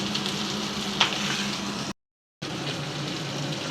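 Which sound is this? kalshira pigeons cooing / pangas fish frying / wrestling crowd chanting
pangas fish frying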